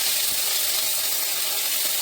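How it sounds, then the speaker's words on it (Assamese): Dhekia fern greens frying in a pan with green chillies make a loud, continuous close-up sizzle, a dense even hiss with no pauses. "তাৰপিছত আহিলোঁ মই ঢেকীয়াখিনি ভাজিবৰ কাৰণে"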